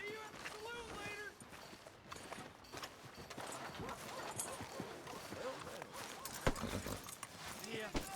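Horse hooves clip-clop at a steady trot in Red Dead Redemption 2, mixed into a busy game soundscape with voices talking over the hoofbeats.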